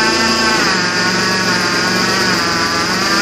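A 2008 Chevrolet Impala LT engine with a worn pulley runs at a steady idle, a loud, constant drone with a whiny, buzzing edge that holds unchanged throughout, close and without talk.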